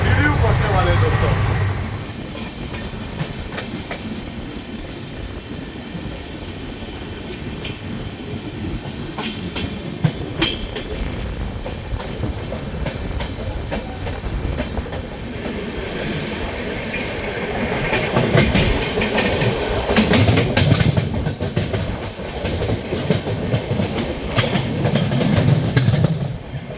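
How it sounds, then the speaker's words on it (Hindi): An Indian Railways 12259 Duranto Express speeds along the track near Pt. Deen Dayal Upadhyaya Junction, with a steady loud rumble and clattering wheels heard from inside, rising in intensity toward the end, while someone talks over it. "भाई क्या ही ताबड़तोड़ रफ्तार में हमारी दुरंतो एक्सप्रेस भाग रही है भाई।"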